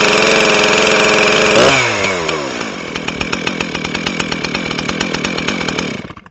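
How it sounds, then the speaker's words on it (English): A Stihl MS311 chainsaw revving at a high fast idle, then dropping abruptly to a lower, steady, pulsing idle after a throttle blip, close and loud, before cutting off at the end. "we'll blip the throttle, and it'll automatically come off of the fast idle to a normal idle"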